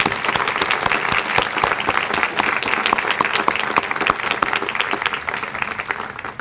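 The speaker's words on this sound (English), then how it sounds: "Can we give Jazz and Wyatt a big round of applause, please?" Lively crowd applause at an upper school commencement ceremony, many hands clapping with distinct individual claps audible in a steady, energetic stream throughout.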